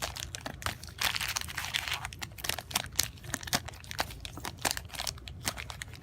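Magic: The Gathering cards are shuffled by hand up close, a quick series of crisp papery riffles and snaps with uneven rhythm, continuing throughout with no talking.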